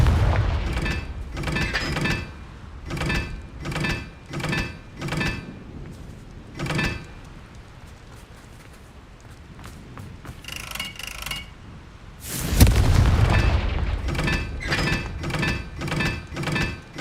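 Confringo spell blasts in Hogwarts Legacy, a loud explosive burst with a rumbling tail amid rhythmic mechanical clanks and repeated thumping combat effects.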